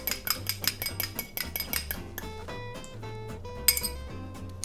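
A fork beats an egg in a bowl while a tater tot burger dish is being made, a quick series of bright clinks against the bowl's side, close up, with a soft tinkling tune playing underneath.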